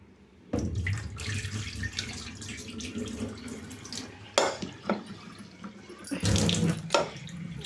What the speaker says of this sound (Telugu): ఇప్పుడు కూల్ వాటర్ పట్టుకోవాలి ట్యాప్ ట్యాప్